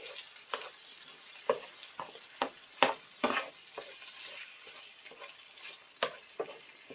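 Spoon stirring a beef and cream soup mixture in a pan, soft scraping and wet sizzling clicks in an irregular rhythm, close and quiet.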